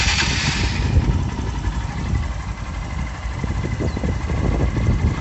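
A JTW250 motorcycle engine runs steadily after a timing chain replacement, a loud, close, even idle with a continuous low rumble throughout and no talking.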